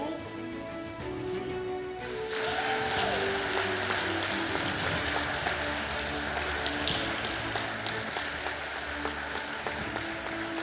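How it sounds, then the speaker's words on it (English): Audience applause fills a hall at a lecture awards ceremony, a dense, sustained wash of clapping that rises after a brief spoken lead-in and continues steadily throughout. "please give her a good round of applause"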